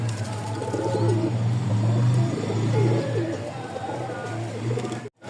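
Repeated soft, throaty pigeon cooing in a steady rhythm, fairly close, over a low constant hum and faint background noise.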